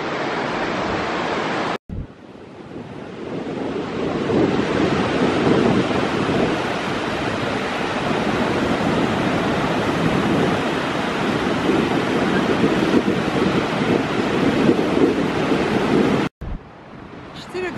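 Sea waves break on the shore at Jurmala in winter, heard as a continuous loud roar mixed with heavy wind buffeting the microphone. The sound cuts out briefly twice.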